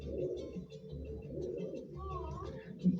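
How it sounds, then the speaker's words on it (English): A pigeon at a zoo gives soft, low, throaty coos, repeated through a few seconds amid background chatter and nearby voices. "This is Rocky, our pigeon"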